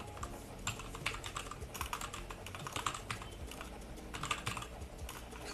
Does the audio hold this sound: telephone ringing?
no